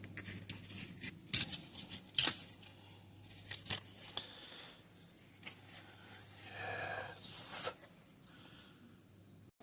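Cardboard of a handmade box being trimmed with a blade, heard as a series of close, quiet scraping cuts and brief rasping strokes with faint rustling between, no talking.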